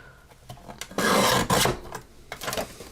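A craft flower pot base is cut with short rasping, scraping strokes, close and brief, with two louder bursts of sawing friction among lighter scratches.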